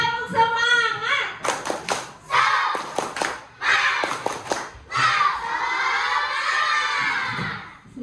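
Children in a classroom do a rhythmic spirit clap, with bursts of sharp unison claps between loud group shouting and chanting. The shouting runs close and continuous, and a voice speaks briefly at the start.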